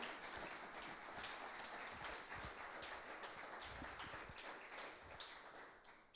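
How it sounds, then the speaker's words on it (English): A small audience gives a round of applause, faint, steady patter of clapping hands from a distance that continues evenly and tapers off at the end. "Give her a round of applause."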